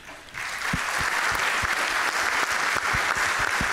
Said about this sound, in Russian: Какие интересные патриоты-предприниматели теперь окружают Путина и все время аплодируют, когда маньяк говорит о войне